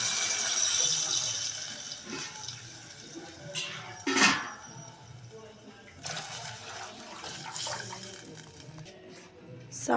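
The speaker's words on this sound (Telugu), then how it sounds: "నేను వాటర్ వేస్తున్నా." Water is poured into a cooking pot with ginger while mutton bagara rice is being made at home. The pour is fairly quiet and splashes in a few short surges, with someone talking over it.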